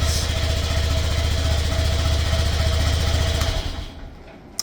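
A stunt motorcycle engine runs at a steady, loud, rough idle, then cuts out near the end, leaving near quiet and one sharp click.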